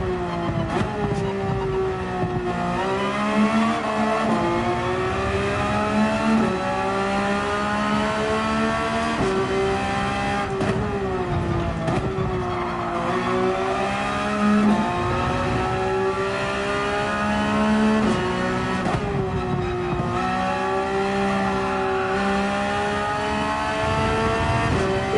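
Porsche 911 race car engine on a qualifying lap at Barcelona in a racing game, revving loudly through repeated rising gear sweeps and downshifts, with brief tire noise, continuous and close.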